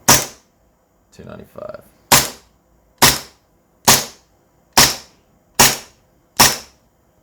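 Golden Eagle Hi-Capa 4.3 gas blowback airsoft pistol emptying its magazine: seven sharp, loud cracks at a steady pace about a second apart, with a short burst of mechanical rattling between the first and second shots.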